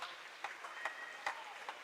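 A gym crowd at a high school volleyball match applauds the seniors, a soft, distant patter of clapping with a few sharper claps standing out and a faint tone lingering underneath.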